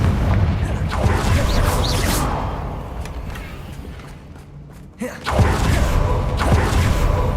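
A Confringo fire spell blasts in Hogwarts Legacy, with heavy booming bursts near the start and again after a brief quieter stretch, followed by crackling rumble and no talk.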